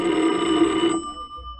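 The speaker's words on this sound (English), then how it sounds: "At 11, the phone rang." An old telephone bell rings loudly in one short burst, then cuts off abruptly, leaving near silence.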